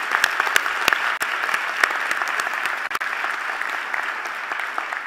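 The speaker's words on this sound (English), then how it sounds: "Please give her a round of applause." Strong applause from a crowd at a university presidential installation ceremony, dense clapping with a few sharp individual claps standing out, loud and continuous.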